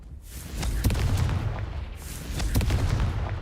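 Confringo blasting spell explosion in Hogwarts Legacy, a dense rumbling burst of crackling impacts that swells, eases briefly, then surges again, with no voices over it.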